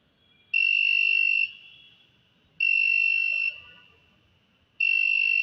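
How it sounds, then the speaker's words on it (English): An IR-sensor-triggered buzzer alarm on a theft-prevention circuit sounds three loud, steady electronic beeps, each about a second long, separated by regular pauses and heard alone. "the LED is turned on and this buzzer alarm will be turned on"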